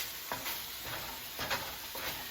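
Ground meat for a taco salad browns in a pan over medium heat, giving a soft, quiet sizzle broken by a few short scraping stirs at a steady rhythm.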